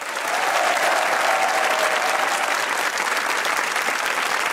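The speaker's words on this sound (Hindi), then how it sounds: "तालियां हो जाइए" A studio audience at a Pakistani comedy talk show breaks into loud, sustained applause. The many hands blur into a thick, even roar that holds steady from start to finish with no talking.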